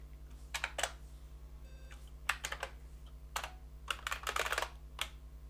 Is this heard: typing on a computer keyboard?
yes